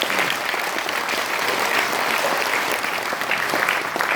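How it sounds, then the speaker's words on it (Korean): A crowd at a commemorative rally for the 99th anniversary of the Battle of Fengwudong bursts into sustained, dense applause, loud and even throughout. "이 대목에서 박수 한번 주십시오."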